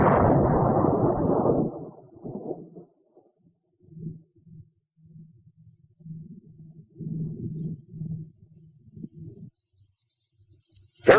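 A howitzer from a 1943 infantry weapons demonstration fires high-explosive shells: a heavy, dense blast opens, followed by a string of low, muffled rumbling thumps that fade into near silence.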